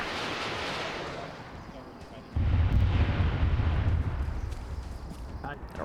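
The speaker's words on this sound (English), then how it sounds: "A rocket strike, but it was short" Rocket strike in a Halo match lands short, a sudden heavy explosive boom that cuts in midway and rumbles on loudly, following quieter ambience with voices chatting over the top.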